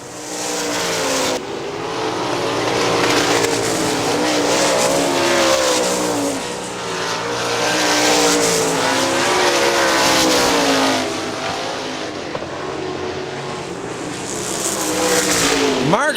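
410 sprint race cars roar around Hartford Speedway Park in Michigan, engines droning and revving in rising and falling waves as the pack passes, loud and continuous with a brief sharp burst at the end.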